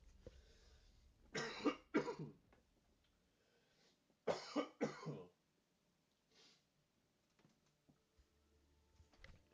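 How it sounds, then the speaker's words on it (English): A person coughs in two close bursts a few seconds apart, each a cluster of harsh coughs, picked up faintly from a headset that has been taken off, with quiet gaps and light rustling between them. "Sorry, I do need to cough."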